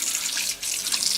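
An RV kitchen faucet runs in shower spray mode, giving a steady, close hiss of sprayed water into a stainless sink with a brief dip in the middle.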